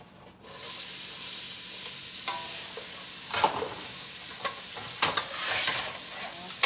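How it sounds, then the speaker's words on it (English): Onions dropped into hot melted butter sizzle with a steady broadband hiss, marked by a few louder crackles and spatters near the close, for a Mediterranean chicken and rice dish. "So the butter is melted, getting too hot. Let's add our onions."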